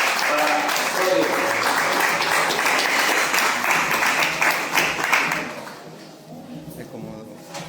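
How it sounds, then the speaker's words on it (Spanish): Lively audience clapping welcomes a speaker at a cycle-tourism expo talk, close and full at first, then thinning out after about five seconds into scattered claps and soft murmuring voices. "este aplauso, por favor, para Sole"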